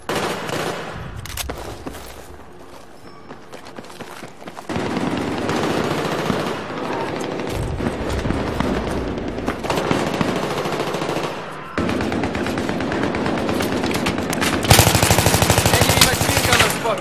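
Sustained automatic machine gun fire and gunshot bursts in the video game Battlefield 3 on PS3, loud and dense, with bursts stopping and restarting throughout and explosive sound layered on top.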